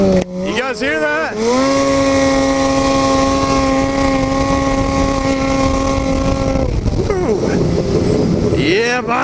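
Snowmobile fitted with a new GGB Trail Can aftermarket exhaust, revving up and holding a loud, steady engine drone with strong tonal harmonics for several seconds, then dropping back, recorded close.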